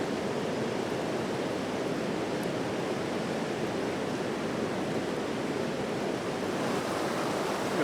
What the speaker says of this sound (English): Look at those rapids there.